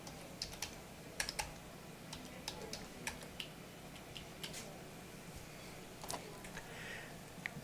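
Fingers tap out a social security number on a computer keyboard, a string of crisp, close keystrokes in uneven bursts over a quiet room hum.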